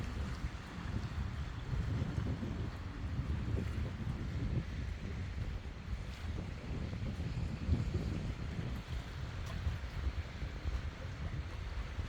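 Wind buffets the microphone over the lapping of waves on the Mississippi River, a continuous low rushing wash with gusty swells and no voices.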